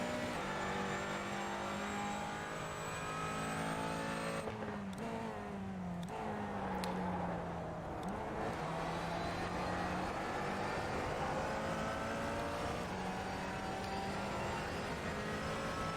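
Several race car engines in the racing simulator iRacing whine and roar at a steady distance, with shifting pitches as cars accelerate and pass, continuous throughout.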